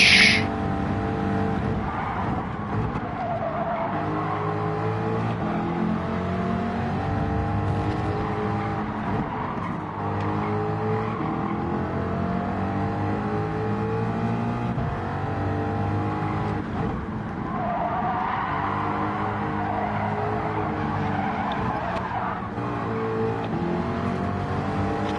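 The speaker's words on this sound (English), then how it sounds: "Can hear your turbo." A turbocharged race car in Gran Turismo 7 drives a race, its engine droning steadily with shifting pitch and a faint high whine, continuous and close with no voices.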